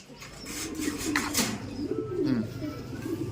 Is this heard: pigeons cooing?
yes